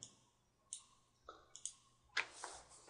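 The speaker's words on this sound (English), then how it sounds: "We'll click the More button." Quiet, sharp mouse clicks at a computer running QlikView 11 software, about five separate dry taps spread unevenly across a near-silent background.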